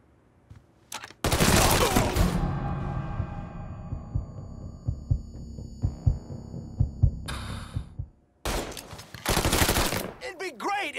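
Gunfire in the video game Mafia III, loud bursts of automatic fire with scattered single shots and sustained ringing tones, broken by a brief silence before another loud burst near the end.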